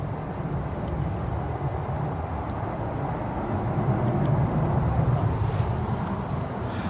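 Aircraft taxiing at Manchester Airport in the early morning, a steady broad roar and rumble heard from a distance outdoors, swelling slightly partway through, with wind noise and no talk.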